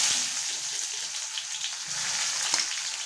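Chopped onion, bay leaves, cloves and cinnamon frying in hot oil in a pan for chicken curry, giving a steady, moderately loud sizzle and crackle with a few sharper pops.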